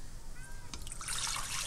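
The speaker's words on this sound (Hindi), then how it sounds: "तो सबसे पहले हम इस बर्तन के अंदर 2 लीटर पानी जो है उसको ऐड करेंगे।" Two litres of water poured into a cooking pot for chicken soup, a short trickle that builds into a brighter, steady splashing stream close by.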